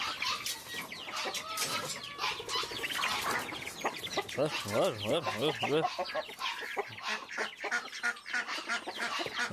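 Chickens cluck and squawk continuously up close, a busy flock chattering, with some voices mixed into the background.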